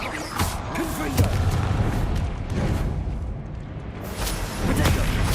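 Deep booming blasts from the Confringo fire curse in Hogwarts Legacy combat, rumbling explosions layered over continuous battle noise, loud and close throughout.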